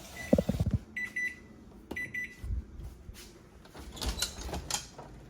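A home oven door opens and shuts as a tray of thumbprint cookies filled with Christmas jam, blueberry and grape jelly goes in, with a sharp clatter, a few high beeps, then soft knocks and rattles up close.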